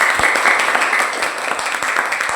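A crowd applauds steadily, many hands clapping in a dense, continuous wash that stays fairly loud throughout.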